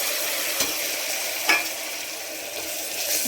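Tomato paste frying in a pan with onion, ginger and garlic paste for mutton keema, a continuous close sizzle with a couple of sharper stirring scrapes and no voices.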